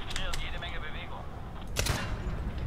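Gunfire in a Medal of Honor shooter game, a few sharp cracks and a louder burst of shots under a voice speaking throughout.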